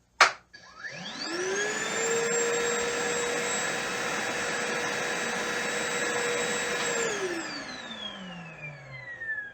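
A loud Milwaukee M18 FUEL cordless backpack vacuum on high speed spins up with a rising whine, runs steadily at high speed for several seconds, then winds down with a falling pitch.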